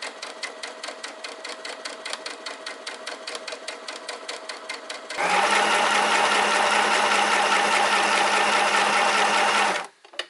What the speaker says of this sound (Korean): 작은 미니 재봉틀이 소리가 클 수밖에 없어요